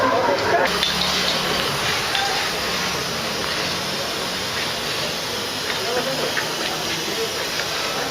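Steady rushing hiss of compressor pressure forced through refrigerator evaporator pipes during flushing, continuous and fairly loud throughout with no pauses.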